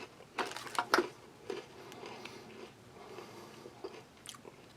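Crunchy biscuit from a Taiwanese army Type B ration, topped with syrup, bitten into near the microphone, giving a few sharp crunches followed by quieter chewing, with no talking.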